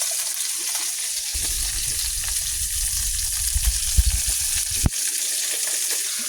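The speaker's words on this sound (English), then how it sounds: "So I'm gonna use some heavy whipping cream. Just pour the whole thing in it." A full one-quart bottle of heavy whipping cream pours into a pan for chicken alfredo sauce, giving a steady, close splashing sizzle that starts after a brief pause and runs on with a few small clatters.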